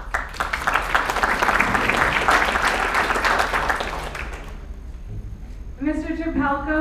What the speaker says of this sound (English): everyone, round of applause for the question